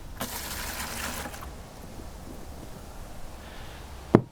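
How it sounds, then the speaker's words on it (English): A quart of apple cider vinegar pours into a bucket, a soft, brief splashing rush at the start that fades into quiet, followed by a single sharp knock near the end. "Apple cider vinegar, we're going to pour that in first."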